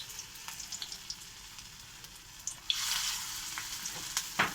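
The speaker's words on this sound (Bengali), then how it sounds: "এবার আমার তেল গরম হয়ে গেছে। দেখতে পাচ্ছ? তেলে আমি বড়াগুলো ছাড়বো।" Bora fritters hit hot oil in a pan, a faint quiet kitchen suddenly giving way to a brighter, louder hiss of frying partway through that continues steadily with small crackles.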